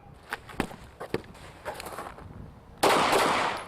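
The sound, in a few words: blank gun firing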